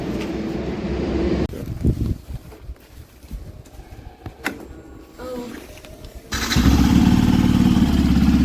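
A Yamaha FZS V4 motorcycle on a highway ride from Howrah toward Puri, its steady engine drone and wind rush loud at the start, dipping through a quieter stretch with faint voices, then swelling back strongly near the end.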